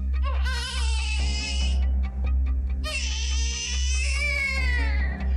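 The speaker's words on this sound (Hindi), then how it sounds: "रात को 10 बजे पड़ोसियों ने एक छोटे बच्चे के रोने की आवाज सुनी।" A small child wailing in long, high, strained cries with a brief pause between them, over a steady low hum.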